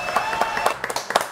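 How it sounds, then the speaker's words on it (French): Studio audience applauding a guest on a French TV show, a short run of scattered, distinct claps with a light crowd murmur underneath. "Applaudissements pour Loïc Lacroix."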